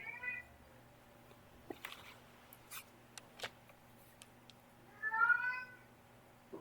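A cat meows twice, a short mew at the start and a louder, longer drawn-out meow near the end, with faint scratchy clicks and a low hum in between.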